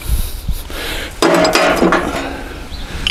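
A wrench breaking the head bolts loose on an Allis Chalmers C tractor engine, close metallic clinks and a sharp ringing clank amid workshop clatter, no voices.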